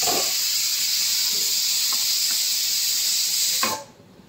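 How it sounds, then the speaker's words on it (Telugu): A pressure cooker on a stove lets out a continuous, fairly loud hiss of escaping steam that holds steady, then stops abruptly. "ఇంకో పొయ్యి మీద కుక్కర్ కూడా పెట్టేసుకున్నానండి"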